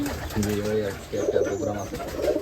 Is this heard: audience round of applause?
no